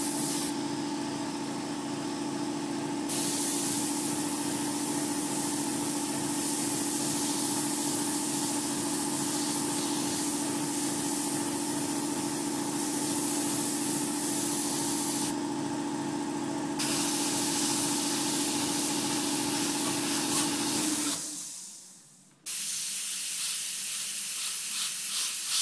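An airbrush hisses steadily as it sprays paint onto wood, with a constant compressor-like hum underneath. The spray broadens briefly at a few moments, and the hiss drops away near the end.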